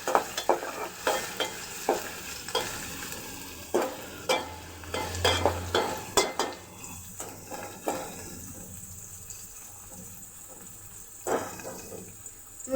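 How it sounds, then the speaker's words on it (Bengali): Chopped onion and green chilli are stirred in hot oil while cooking dal, with a continuous sizzle under repeated sharp scraping strokes of a spoon against the pan, close and fairly loud, with no talking. "পেঁয়াজ কুচি, কাঁচামরিচ কুচি, এরপর নাড়া দিতে হবে।"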